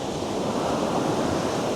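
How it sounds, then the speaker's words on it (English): Sea waves wash steadily at a fishing spot, a continuous loud rushing surf noise with no breaks and no voices. "That was the waves."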